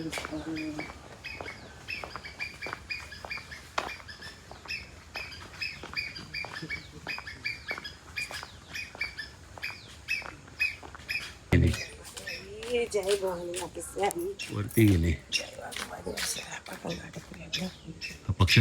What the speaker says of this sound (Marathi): आवाज ना खारुताईचा आवाज